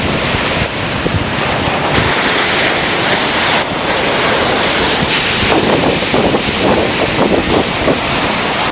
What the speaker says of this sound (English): The seas along the coastal area of Puttalam were also rough.